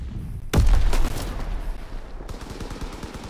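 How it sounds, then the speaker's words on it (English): Machine gun strafing fire from a fighter plane in a World War II shooter game, a sudden loud burst of rapid shots followed by a sustained rattling volley that fades into continuing distant gunfire. "Call for a strafing run."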